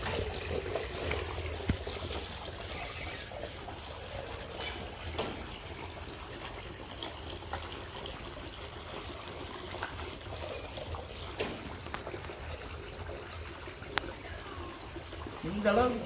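Straw being trodden down into a tub of water for a mushroom farm gives continuous soft sloshing, trickling and squelching at a low level, with a few sharper splashes and speech over it.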